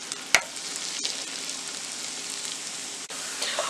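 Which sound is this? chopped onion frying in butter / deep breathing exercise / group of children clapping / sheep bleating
chopped onion frying in butter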